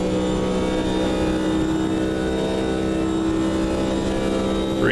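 A Corvette GTP prototype race car in Automobilista 2 holds a high, steady engine drone at speed, with layered tonal hum and little change in pitch over several seconds.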